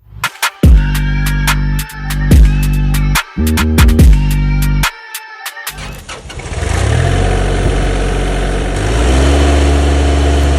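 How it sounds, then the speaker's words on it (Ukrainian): A Kubota GL33 tractor with a 33-horsepower three-cylinder 1647 cc diesel engine cranks in several loud bursts with pauses, then catches and settles into a steady, rough close-up idle. "Даний агрегат має дизельний та трьохциліндровий двигун об'ємом 1647 см кубічних."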